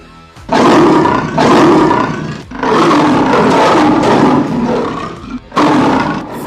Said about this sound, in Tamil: அதிர்வூட்டும் அதன் கர்ஜனை வெறும் சத்தமல்ல, 8 கிலோமீட்டர் வரை எதிரொலிக்கும் கம்பீரம்.